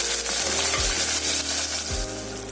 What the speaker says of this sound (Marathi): आता आपण त्यामध्ये 1 टोमॅटो घालूया, तो पण चांगला परतून घेऊयात नरम होईपर्यंत